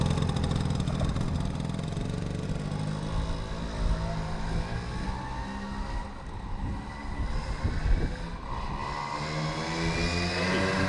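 A Honda Motocompo scooter with a 2.5hp engine buzzing at full throttle, a loud, raspy high-revving whine that holds steady, dips briefly midway, then climbs again, close to the listener.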